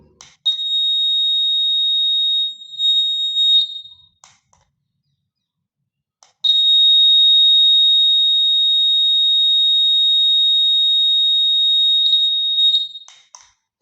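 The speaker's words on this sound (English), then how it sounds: "Here you see we are getting the sound of buzzer, that is electric bell" A steady, high-pitched buzz from a homemade electric bell rings in two long bursts, about four and six seconds each, separated by a short silence; loud and close.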